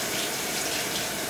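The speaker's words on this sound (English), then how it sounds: "I'm just going to give this a bit of a wash," A potato rinsed under running tap water in a kitchen, a loud, dense, continuous gush of water close by with no speech.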